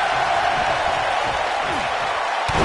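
Wrestling arena crowd at a Bret versus Undertaker match, a dense continuous roar of many voices heard from within the audience, steady and loud throughout.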